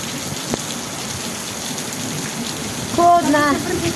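Rain pouring into a yard and filling holes in the ground, a steady, close wash of falling water with a brief voice near the end.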